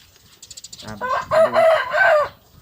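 Laying hens clucking close by, a short burst of rising, squawking cackles after a few soft clicks, loud and alone without talk.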